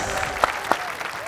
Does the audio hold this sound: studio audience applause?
yes